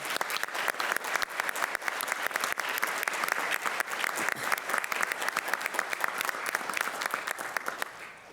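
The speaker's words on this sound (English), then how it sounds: "Let's give them a round of applause as well." A dense round of applause from an audience at a Phi Beta Kappa induction ceremony, steady and even throughout before tapering off at the very end.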